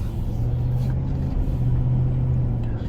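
A 2006 Ford F150 pickup drives along, heard from inside the cab as a steady low engine and road rumble with a faint hum, and no voices on top.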